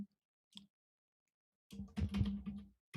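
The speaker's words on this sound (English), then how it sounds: "I'm just typing up a little summary" Keys clatter on a computer keyboard: a single tap, a pause, then a quick burst of close, crisp clicks that stops and resumes at the end, with no voice over it.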